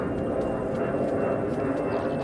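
Jetstar airliner coming in to land during outdoor plane spotting, a steady distant engine roar that holds even across the short stretch, heard alone.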